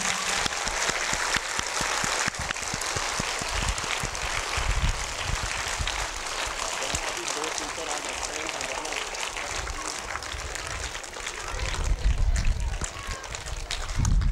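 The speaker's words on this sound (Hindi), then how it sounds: "चलिए एक बार सारे टीचर्स के लिए जोरदार तालियां।" School audience clapping for teachers at a stage event at R. P. Public school, a dense sustained round of applause with crackling hand claps and crowd voices mixed in, swelling louder near the end.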